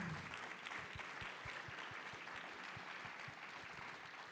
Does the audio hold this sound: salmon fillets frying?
no